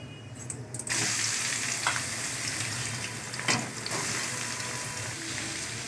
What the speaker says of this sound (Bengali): পেঁয়াজ কুচিটা একটু হালকা করে ভেজে নেবো